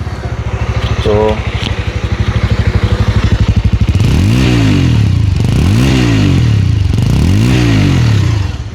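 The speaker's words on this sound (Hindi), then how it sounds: "एक बार मैं स्टार्ट करके आपको बाइक दिखा देता हूँ कि आवाज़ कैसी आती है इसकी।" Bajaj Avenger 220 Cruise motorcycle starting with a brief crank, then settling into a loud, close, thumping idle before three rising and falling revs of the single-cylinder engine.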